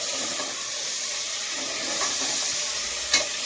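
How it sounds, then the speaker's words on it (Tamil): Tomatoes tipped into a pan of onions frying in oil for a mutton biryani, giving a steady close sizzle and hiss with light stirring scrapes and a brief sharp clink near the end. "ஒரு 3 தக்காளி போட்டுருவோம்"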